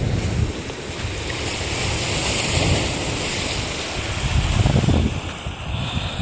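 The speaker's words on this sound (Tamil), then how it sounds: "அதனால் கடல் அலையெல்லாம் பார்த்திங்கன்னா ரொம்ப ஃபோர்ஸாக தாக்கிட்டு இருக்கு." Sea waves crash forcefully onto a beach at Ras Al Khaimah in windy, rain-threatening weather, a loud continuous surf roar with gusting wind buffeting the microphone.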